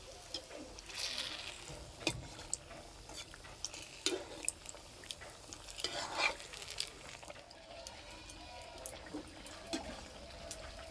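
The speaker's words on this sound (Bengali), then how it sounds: "এই পিঠেগুলো মাঝারি আঁচে ভেজে নিতে হবে।" Date palm jaggery poa pitha batter frying in hot oil over medium heat, a soft continuous sizzle broken by scattered crackles and light stirring or utensil clicks, fairly faint.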